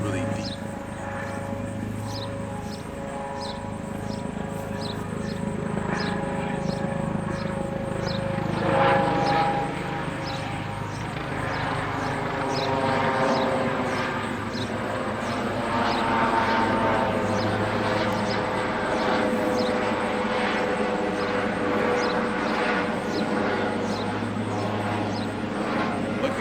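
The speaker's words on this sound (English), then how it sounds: "there's a helicopter overhead" A helicopter passes overhead above a Michigan workshop, a continuous rhythmic rotor chop and engine drone that swells and fades, with someone speaking over it.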